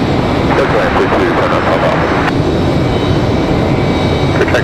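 A jet airliner arriving at Raleigh-Durham International Airport roars loud and steady throughout, a broad continuous engine rush with voices talking faintly beneath it.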